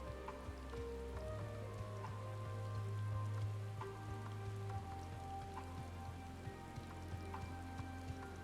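Steady rain falling on surfaces in Final Fantasy XIV weather, a constant hiss of drops running the whole time over a low, sustained game music bed.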